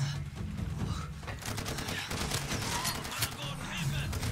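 AK rifle fire in the video game Far Cry 2: dense, rapid bursts of gunshots crackling almost continuously at close range, with loud sharp reports throughout.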